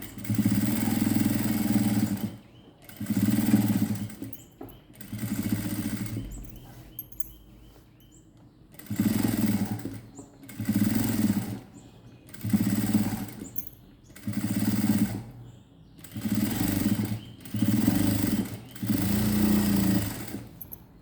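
A sewing machine stitches a churidar neckline in bursts of rapid mechanical whirring, about eight runs each lasting a second or two and separated by short pauses, close and loud with no talking.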